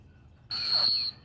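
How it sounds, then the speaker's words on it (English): A handler blows one sharp, steady high-pitched whistle blast lasting about half a second at a retriever field trial semifinal in Northfield, Minnesota, clear and alone over quiet outdoor background. "A lot of whistles handling to this bird."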